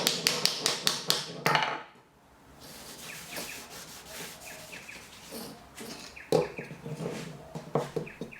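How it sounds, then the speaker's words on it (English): A hammer taps kumiko wood pieces into the mortises of a framed asa-no-ha shoji pattern, sharp repeated knocks in quick bursts, a rapid run at the start, then a quieter pause and more scattered taps near and close. "all I'm doing here is tapping the pieces in directly with the hammer"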